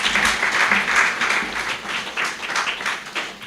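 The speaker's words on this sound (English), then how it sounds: "Let's give her a big hand of applause" An audience at a parenting education corporate partners awards ceremony applauds a recognised honoree, a steady wash of many hands clapping at moderate volume throughout, with no voices standing out.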